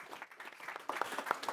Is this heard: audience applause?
yes